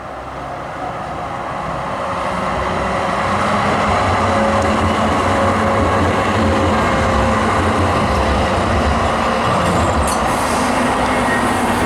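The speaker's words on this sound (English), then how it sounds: "There's another tram coming in, going to Herdings Park" A tram bound for Herdings Park, South Yorkshire, rumbles in steadily, growing louder over the first seconds, with a rolling rail drone and a brief high wheel squeal near the end.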